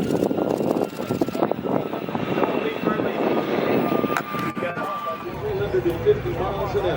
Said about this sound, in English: This pass demonstrates the extremely powerful engines of this magnificent jet.